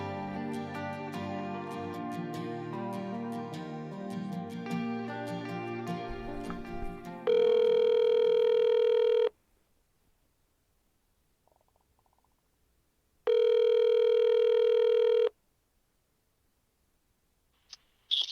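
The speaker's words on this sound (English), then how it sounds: "let you eavesdrop on my phone conversation with Nancy Uri" A phone call being placed: a steady dial-style tone sounds, then two long ring tones separated by silence, loud and alone with no talking, after a stretch of music at the start.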